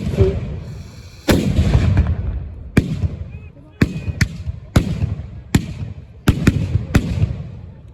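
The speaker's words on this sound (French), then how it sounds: "avec une salve de tir de la part des soldats français, des grenadiers, qui sont donc équipés de ce modèle Charleville 1777" Charleville 1777 muskets fired by French grenadier reenactors at a battle reconstruction in Arlon, Belgium, crack out in a ragged volley of about ten sharp, loud shots, some nearly together, each leaving a brief echoing tail outdoors.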